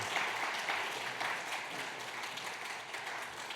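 Steady applause from a church congregation during a Sunday worship service as certificates and gifts are presented, a dense, even wash of clapping that fills the whole stretch at moderate volume.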